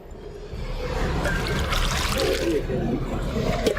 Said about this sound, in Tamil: சரி சரி இப்போ மூணாவது முறை கழுவுறோம்